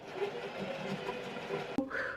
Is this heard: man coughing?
no